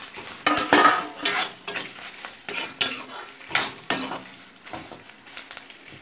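Toor dal for a chutney is sautéed and stirred in a pan, with a spoon scraping and clinking in irregular bursts over a soft sizzle, close and fairly loud, with no voices.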